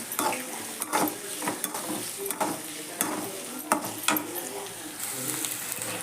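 Cauliflower pieces frying in a pan for gobi manchurian, giving a steady close sizzle with repeated stirring scrapes and clinks of a utensil against the pan.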